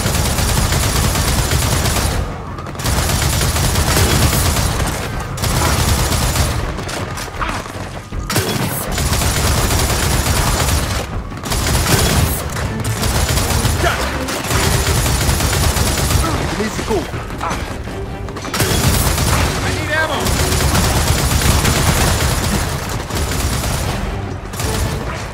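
Heavy gunfire from Gears of War 4 rages through a battle against attacking swarms, with dense bursts and booms running almost without pause at close range.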